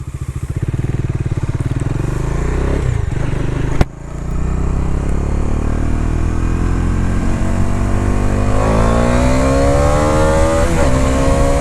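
A Dominar 400 BS6 motorcycle rides on a road, its engine loud and close with a steady thumping idle, a sharp knock near four seconds, then rising revs as it accelerates.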